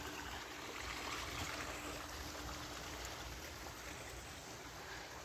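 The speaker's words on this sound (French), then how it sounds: "À la vue de la fontaine." A garden fountain trickles water steadily, a soft continuous wash and patter heard at a moderate distance with no other sounds over it.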